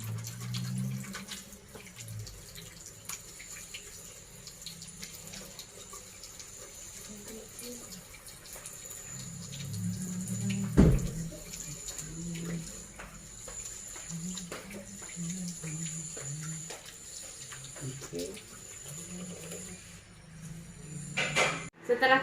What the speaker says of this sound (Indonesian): kita cuci tangan 6 langkah